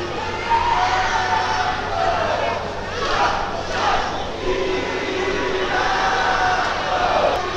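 A fight-night crowd roars and cheers in a loud, sustained wash of voices, swelling in waves, while an announcer talks over it.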